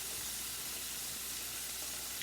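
Food frying steadily in a pan with onion and garlic powder, a continuous close hiss and sizzle with no talk.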